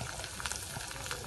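Chopped onions frying in a pan for schezwan fried rice made from leftover rice, giving a steady, fairly quiet sizzle with faint crackles throughout and no voices.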